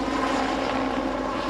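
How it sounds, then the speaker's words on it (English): A rescue helicopter flying over an area struck by historic flooding in Texas, a loud, steady engine and rotor drone that fills the whole moment without a break, with no voices. "Rescue helicopter."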